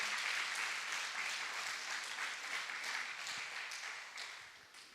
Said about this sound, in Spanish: Así que dele un aplauso